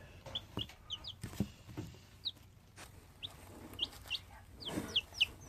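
Day-old baby chicks make short, high, scattered peeps close by. The cheeps come in quick irregular bursts over quiet background rustling.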